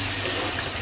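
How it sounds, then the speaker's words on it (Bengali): Water pours steadily into a cooking pot, a continuous close gushing splash that runs without break at moderate loudness. "একটু পানি দিয়ে দিলাম"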